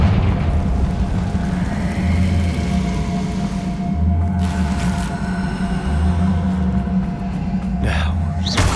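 A Confringo explosion spell cast in a wizarding video game: a heavy, continuous low rumble with pulsing booms throughout, ending in a sharper burst near the end.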